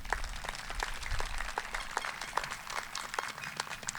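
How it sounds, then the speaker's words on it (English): A crowd at a 2020 high school commencement ceremony claps for the graduates' families, with steady, somewhat distant applause lasting throughout. "Can we please give them a round of applause?"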